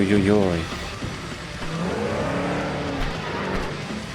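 A car driven in Cyberpunk 2077 revs and skids, its engine tone rising and falling with a tire squeal partway through, under a steady game background.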